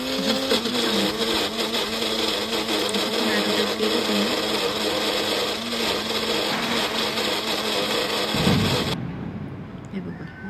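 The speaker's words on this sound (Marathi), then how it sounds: "बारीक करायची पेस्ट मिक्सरमध्ये" Mixer grinder grinding masala paste for a dhaba-style vegetable handi, a loud continuous whirring motor drone that runs steadily and cuts off near the end.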